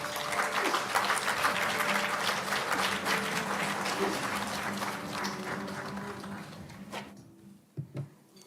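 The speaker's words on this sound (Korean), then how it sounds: "큰 박수로 환영해 주시기 바랍니다." Audience applause fills a lecture hall as a speaker is welcomed to the stage for a talk on AI trends, a dense, steady roar of many hands that thins out near the end with a few faint knocks.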